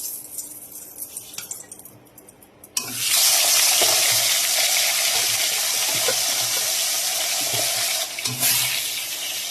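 Taro stalk heads dropped into hot oil in a heated pan: near-silence breaks into a sudden loud, hissing sizzle that holds steady for several seconds before easing slightly, with no talking.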